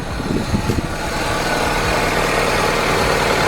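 A rebuilt Honda B20B engine in a CR-V idling after a cold start, a steady, loud, low rumble that holds even throughout, with a few rougher pulses at the beginning.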